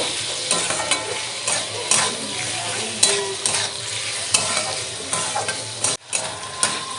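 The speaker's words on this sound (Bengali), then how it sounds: "দিয়ে দেবো স্বাদ মতো লবণ, পরিমাণ মতো হলুদ দিয়ে ভালো করে কষে নেব" Chicken with salt and turmeric sautés in a pan for chicken singara filling, a dense continuous sizzle with repeated stirring scrapes and utensil clinks up close, no voices.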